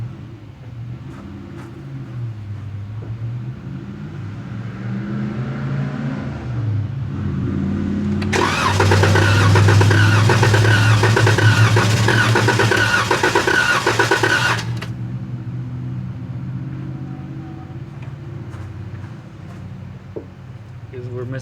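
A Dodge Challenger engine with a faulty fuel pump cranks, then catches on starting fluid and revs loudly for several seconds before settling back; a voice talks over the quieter stretches.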